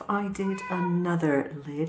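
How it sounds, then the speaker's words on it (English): A house cat whines and meows insistently for attention, several drawn-out, rising and falling cries close by, overlapping a person speaking. "that's my cat whinging at me because he's not getting any"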